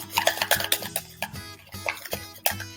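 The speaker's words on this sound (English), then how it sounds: "Go back down here, stir that up real well." A spoon stirs onion powder into beef gravy in a pot, with repeated close scraping and clinking strokes against the sides in a quick, uneven rhythm, fairly loud and with no talking.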